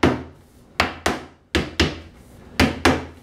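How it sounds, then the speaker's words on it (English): A rubber mallet knocks a cabinet face frame down onto its splines during assembly of a Conestoga RTA cabinet: seven sharp, fairly loud thuds come in irregular pairs and singles, each ringing briefly in the wood before fading. "I'm going to take my rubber mallet. And I want to make sure that this face frame is seated on the splines all the way along the edge here"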